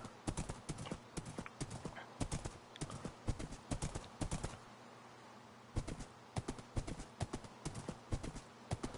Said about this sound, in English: I feel like that's a lot faster than a lot of the skeleton horses I ride.